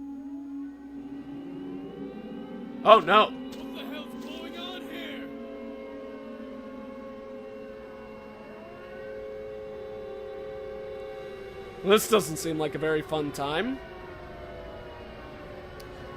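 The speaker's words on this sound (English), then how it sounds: "Classic Silent Hill 1 sirens" Wailing Silent Hill–style air raid sirens in the Alchemilla fan game: steady, overlapping drawn-out tones that hold through the whole stretch at moderate level, with someone talking briefly over them twice.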